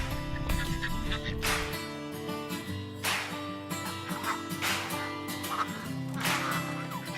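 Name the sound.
domestic ducks quacking in pen under stilt house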